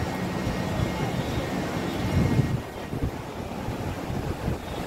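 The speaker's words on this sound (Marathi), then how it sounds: "बघ तो कसं उसळायला पाणी बघ." Rushing, wind-blown sea water surges and splashes steadily beside a boat at Murdeshwar, with a heavier swell midway, against a constant roar of wind.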